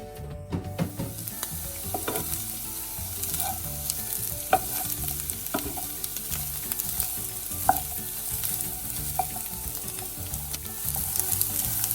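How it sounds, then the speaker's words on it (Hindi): Bitter gourds fry in about five tablespoons of oil in a frying pan until browning, for a mince and bitter gourd curry. A steady, close sizzle runs throughout, with scattered clicks and scrapes from stirring. "अब फ्राइंग पैन में 5 टेबलस्पून ऑयल डाल के तो उनको ब्राउन होने तक भून लेंगे"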